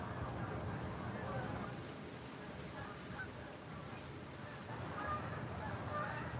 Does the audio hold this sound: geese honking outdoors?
yes